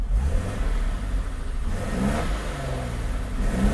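A Mercedes-Benz R107 280SL engine revs up and down repeatedly up close, a loud rising and falling growl over a low rumble.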